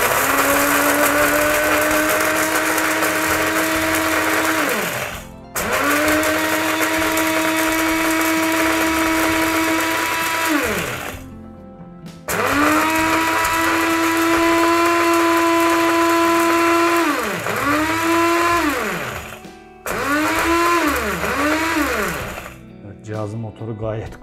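A Musullu MSL 1003 electric coffee and spice grinder grinds black pepper with a loud, high motor whine. It runs in several bursts of a few seconds each, the pitch sagging and rising as the load shifts, with short pauses between.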